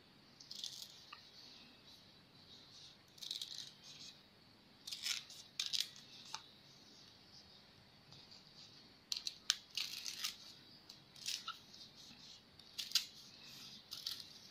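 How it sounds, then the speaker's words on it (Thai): Small scissors trim the hard central stalks of pandan leaves, giving quiet, crisp snips in irregular clusters over a soft background hush. "เราก็ค่อยใช้กรรไกรเล็ม ก้านแข็งๆตรงกลางนี้นะคะออกไป"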